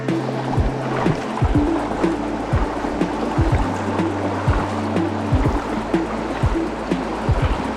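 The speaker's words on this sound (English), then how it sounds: "So here's the next river crossing." Steady, fairly loud flowing water at a river crossing on a mountain bike ride, a continuous rushing wash with scattered splashes and knocks close by.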